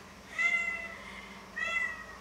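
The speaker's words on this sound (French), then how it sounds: "Oui, le chat." A cat meows twice, clear and fairly close. The two drawn-out calls are about a second apart against a quiet indoor background.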